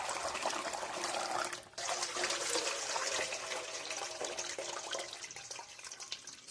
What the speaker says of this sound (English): After that cycle, I will just drain that water out.